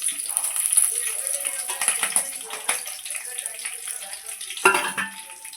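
Dried red chillies and green chillies frying in oil for pulihora give a steady close sizzle and crackle, with a sharper burst of spattering near the end.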